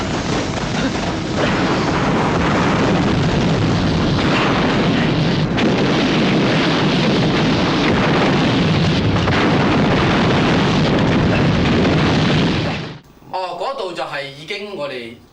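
A factory blows up in an explosion scene full of explosives from the 1988 film Police Story 2, a loud sustained roar of blast and debris lasting about twelve seconds before cutting abruptly to quieter sound.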